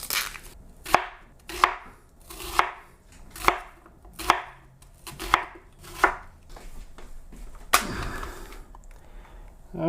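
A food processor chops half a red onion in about nine short, evenly spaced pulsed bursts, close and clear, followed by a longer rattling burst near the end.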